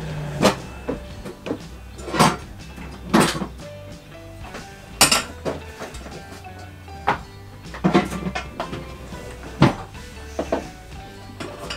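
Pot and dishes handled in a kitchen while sugar syrup is being made, giving a string of sharp clinks and knocks at irregular intervals over a low background hum, close by with no talking.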